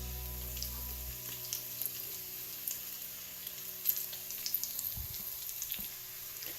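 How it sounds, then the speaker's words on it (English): A cheese breadstick shallow frying in a pan gives a steady, soft sizzle with scattered crackles and pops, preceded by a brief low hum at the start. "We have to shallow fry this breadstick."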